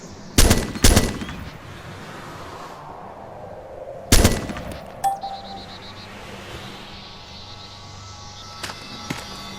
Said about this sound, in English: Controlled fire over long distances will minimize the effective weapon recoil and provide the best results.